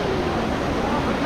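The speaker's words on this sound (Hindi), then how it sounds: "ऊपर से झरने की आवाज़" Steady rushing roar of the waterfall at Shiva Cafe near Triund, a continuous broadband wash of falling water close by, constant and unbroken with no other sounds standing out.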